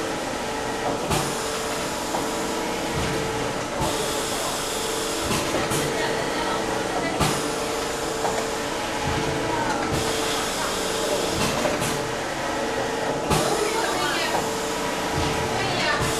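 A compressed-air automatic screen printer running at 5 bar gives a steady, loud mechanical whoosh and hum, with repeated pneumatic hisses and clunks as it cycles.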